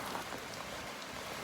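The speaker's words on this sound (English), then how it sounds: "oh yeah, you can see the rain now." Heavy storm rain pours down steadily outside an open garage, a dense, even hiss of drops hitting surfaces with no pauses.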